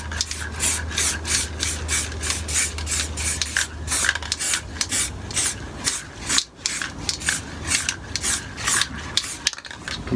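A spray paint can sprays around the edges of a stencil in quick, rhythmic hissing bursts, about twenty short close puffs in a row with a brief pause near the middle.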